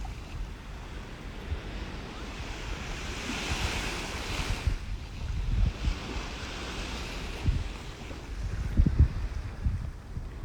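Ocean waves wash steadily onto the shore, a continuous rushing surf with gusts of wind buffeting the microphone.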